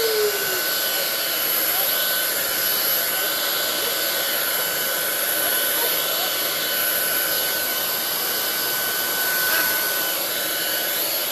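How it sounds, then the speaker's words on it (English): A handheld blow dryer runs steadily and fairly loudly throughout, drying a Chalk Couture chalk transfer in a home craft setting, with a constant whooshing airflow and a faint high whine. "Let me just hit this with the blow dryer."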